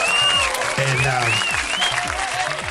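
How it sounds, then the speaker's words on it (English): A loud burst of crowd applause with whistles and cheering voices, dense and continuous for a couple of seconds. "Another hand clap for you guys as well."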